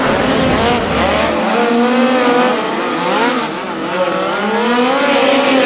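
Midget race cars scream through hot laps on the IMS dirt track during the BC39, several engines wailing loud and close, pitch rising and falling as they accelerate and back off into the turns.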